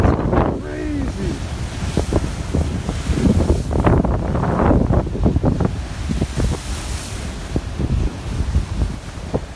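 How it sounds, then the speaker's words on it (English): Strong gusts buffet the microphone while heavy surf crashes and rushes over rocks during a no-name storm at Madeira Beach, loud and continuous, with a voice speaking underneath. "Can you guys hear me at all with this wind?"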